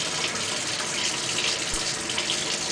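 Water siphoning and draining out of a siphon clock, a steady close rush of trickling, gushing water that runs without a break and with no voices.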